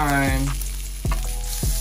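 Homemade salmon patties sizzle loudly in a frying pan, with a few sharp scraping and clacking spatula hits as they are flipped, close and alone without talk.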